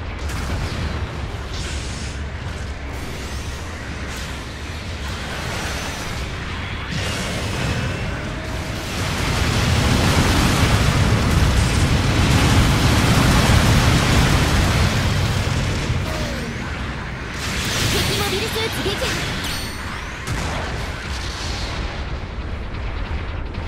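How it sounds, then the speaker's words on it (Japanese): Support artillery bombardment in Gundam Battle Operation 2, a sustained rumbling barrage of heavy booms and blasts that swells to a loud roaring peak midway, then eases while gunfire and mech battle noise continue. "後方部隊から支援砲撃が来ます。"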